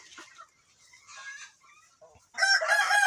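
Brahma chickens cluck and squawk nearby on a farm, then a loud rooster crow bursts in near the end.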